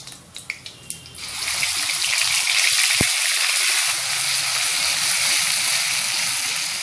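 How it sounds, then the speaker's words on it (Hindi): Garlic ginger paste hits hot oil with browned cumin in a kadai, bursting into a loud, steady sizzle after a few sharp clinks, with one brief knock midway and no talking. "मैं इसमें पेस्ट डालूंगी लहसुन अदरक का।"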